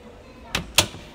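A heavy, sturdy door swings shut twice in quick succession, each closing landing as a solid, close-up thump over a quiet room.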